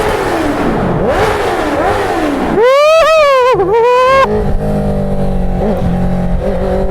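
Inline-four car engine revving hard while driving under a bridge, loud and close, with a rising, sweeping howl echoing off the structure, then settling to a steadier drone with smaller throttle blips.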